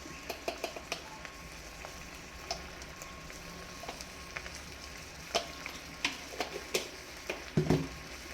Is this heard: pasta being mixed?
yes